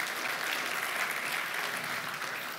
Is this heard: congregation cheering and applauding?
yes